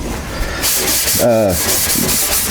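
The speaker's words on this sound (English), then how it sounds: "I need to scuff it up, right? From here, all the way down to this edge, right here." A gray Scotch-Brite pad scuffs a car body panel on an MGA with steady close abrasive rubbing, and a brief voiced sound is heard in the middle.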